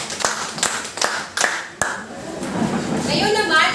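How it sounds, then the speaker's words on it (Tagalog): A class of students claps five times in a quick, evenly spaced rhythm, sharp hand claps in a room, followed by murmuring voices and rising chatter. "bigyan natin ng 5 palakpak ang group"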